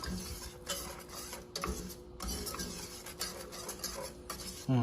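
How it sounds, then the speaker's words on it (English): Cheese being stirred into polenta in a pot, with a spoon scraping and tapping against the pot in irregular close strokes and a faint background hum, and no talking. "Gonna stir the cheese."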